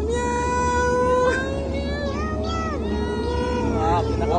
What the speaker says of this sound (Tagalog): Meow, meow, meow, meow.